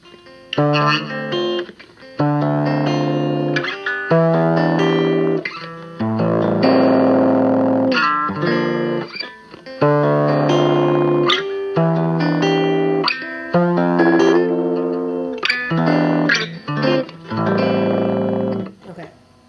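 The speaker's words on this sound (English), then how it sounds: "Now I'm going to turn up the gain so you can hear how it would sound with some distortion." A distorted electric guitar plays chords and riffs in bursts with short pauses, gritty and buzzing through an Orange Crush Mini amplifier with the gain turned up.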